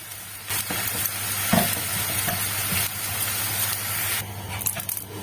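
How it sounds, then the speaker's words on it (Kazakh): Thin milk pancake batter sizzles in sunflower oil in a frying pan, a steady close crackling hiss with a few soft scrapes, no talking. "Лопатканың көмегімен екі жағынан қуырып аламыз."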